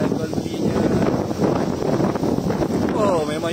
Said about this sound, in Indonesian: Itulah angin dia memang kuat ni. Memang kuat.